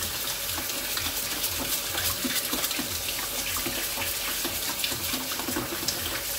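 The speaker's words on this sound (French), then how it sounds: "je la passe sous l'eau, je la brosse un peu" Water from a tap running over a cat fountain pump as it is rinsed and scrubbed, a steady close splashing gush with faint brushing and rubbing beneath, no talk.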